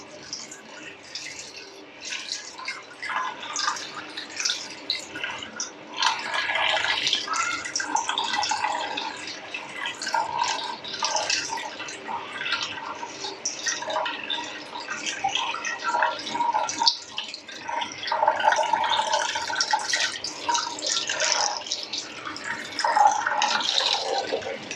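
Homemade soy milk with Job's tears strained through a filter, liquid trickling and dripping steadily for a long stretch with splashy bursts, close by.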